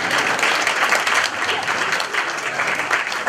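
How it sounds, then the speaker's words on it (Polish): Audience at a Christmas Eve art celebration organised by a local cultural centre, clapping steadily and loudly from start to finish in dense, continuous applause. "Brawa, brawa dla was wszystkich."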